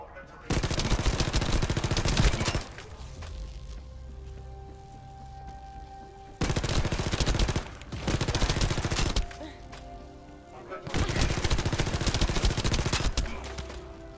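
Submachine gun fire in a looter shooter video game, three long loud automatic bursts separated by quieter gaps of game sound.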